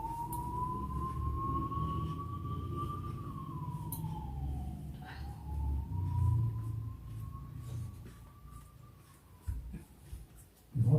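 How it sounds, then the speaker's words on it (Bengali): An ambulance siren passes at a distance, its wailing tone slowly rising and falling over a low indoor background, with a few soft household knocks near the end. "অ্যাম্বুলেন্স যাচ্ছে।"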